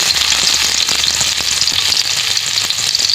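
Garlic and onion frying in a pan for ginisang ampalaya, a steady close sizzle with a few faint stirring scrapes and no voice.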